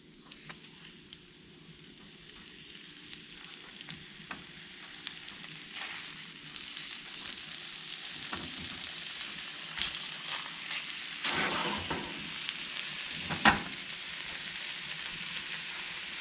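Venison fries in butter on an antique wood cookstove, a soft, steady sizzle heard from a little distance, with occasional louder crackles and light clinks near the end.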